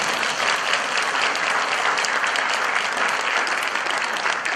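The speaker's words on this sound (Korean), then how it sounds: "어때 박수 쳐도 되는데" An audience at a church association gathering with a Christian male choir breaks into sustained, even applause, a thick and continuous roar of many hands clapping from start to finish.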